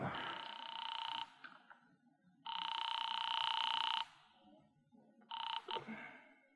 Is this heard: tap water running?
no